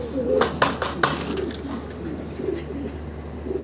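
Shirazi pigeons of an Andalusian bloodline coo softly at close range, with a few throaty calls repeating through the clip and a faint clink in the background.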